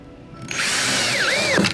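A power drill whirs up to speed and winds loudly as it drives a screw into a tongue-and-groove van ceiling, pitch rising and dipping under load.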